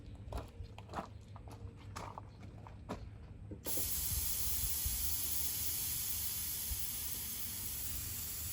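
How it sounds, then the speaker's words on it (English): Brake cleaner sprayed from an aerosol can at yellow jackets near a Massey Ferguson 1150 tractor: a few seconds of faint clatter and knocks, then a sudden loud, steady hiss of spray that keeps going to the end. "A little brake cleaner goes a long way when you're killing yellow jackets"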